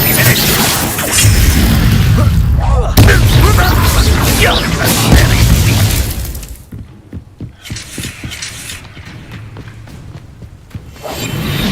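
A fire spell, Incendio, erupts in Hogwarts Legacy, a loud roaring whoosh and booming burst that fill the first half, then give way to quieter crackling and thuds.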